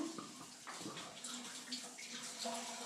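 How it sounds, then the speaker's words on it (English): A toilet in a Havana home flushed hard, a strong rushing gush of water that churns steadily for about three seconds, close and loud, with faint voices underneath. "What happens if you flush less gently?"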